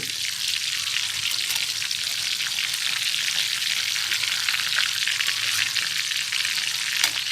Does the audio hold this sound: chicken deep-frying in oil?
yes